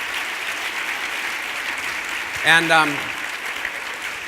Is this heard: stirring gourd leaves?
no